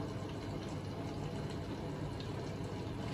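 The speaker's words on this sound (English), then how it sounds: "Sorry about the noise in the background, guys. It's the dishwasher going." Constant broadband whooshing and sloshing of water, like a dishwasher running, steady throughout with no voices.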